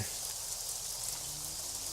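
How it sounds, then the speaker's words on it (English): Steady rain falls in the video game Craft The World, a soft, even hiss of showers that holds unchanged throughout with no voice over it. "This is the perfect time, guys. It's raining."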